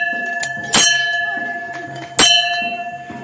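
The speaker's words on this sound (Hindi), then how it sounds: "जाए अंदर, घंटी बजाएं, टन टन।" A metal temple bell struck twice beside a small park, each clang ringing out sharply and decaying with a long sustained tone, close and loud.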